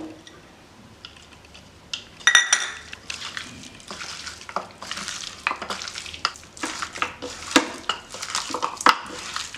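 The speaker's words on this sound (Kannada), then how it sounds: "ಇಷ್ಟನ್ನೆಲ್ಲ ಹಾಕಿದ ಮೇಲೆ ನಂತರ ಚೆನ್ನಾಗಿ ಇದನ್ನು ಮಿಕ್ಸ್ ಮಾಡಬೇಕು" Chicken lollipop ingredients are stirred in a bowl, giving irregular wet squelching and scraping with sharp clicks of a utensil against the bowl, quiet at first, then busy and uneven strokes, close-up and with no speech.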